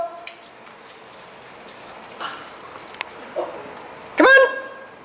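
A dog lets out a short, whining yelp near the end. Faint rustling and scattered clicks come before it.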